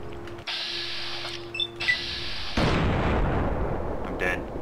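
Grenade blasts in Fallout: New Vegas, a sharp broadband burst landing mid-clip and rolling into a loud, sustained explosive rumble that dominates the end, preceded by humming game tones.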